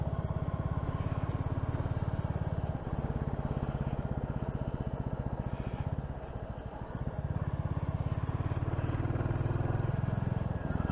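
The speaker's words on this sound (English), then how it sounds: "See how far I can go on my motorbike." A Royal Enfield Classic Chrome motorcycle engine rumbles steadily and close by, a continuous throaty putter with slight dips in revs as it rides along.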